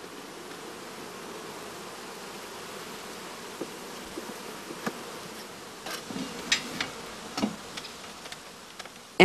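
Honeybees buzz at a hive after feeding, a steady soft hum with faint ticking and crackling from the colony that grows busier toward the end, with no talk.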